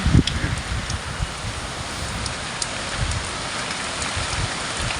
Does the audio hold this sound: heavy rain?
yes